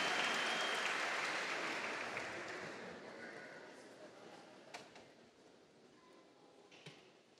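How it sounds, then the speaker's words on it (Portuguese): Audience at a formal solemn award ceremony applauding, a dense wash of clapping that starts fairly full and slowly fades to a faint patter. "Os nossos aplausos"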